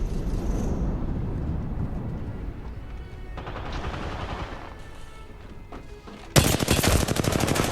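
Automatic weapon fire in the video game Apex Legends, with bursts of rapid gunshots and a loud, dense volley near the end over game background noise.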